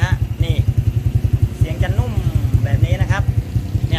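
A motorcycle fitted with an aftermarket O Ratchaburi exhaust pipe idles nearby with a steady, even, soft-toned thump, while someone talks over it throughout.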